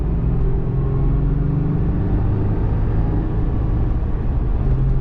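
A customized 2012 Toyota FJ Cruiser with a 6-speed manual accelerates toward highway speed, heard from inside the cabin as a steady, full low engine and road rumble with no voices.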